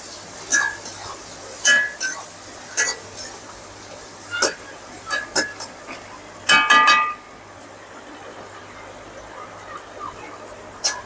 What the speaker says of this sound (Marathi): आपण आता चांगलं फ्राय करून घेऊया